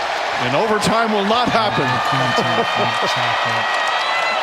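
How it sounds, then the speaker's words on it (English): Knicks fans clap through a preseason NBA game in a New York arena, a dense crowd rumble rising under a loud play-by-play announcer who talks over it the whole time. "Listen to this crowd clap."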